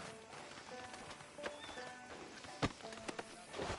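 Horse hooves clopping in Red Dead Redemption 2 in a steady walking rhythm, close and moderately loud, with a sharp knock partway through.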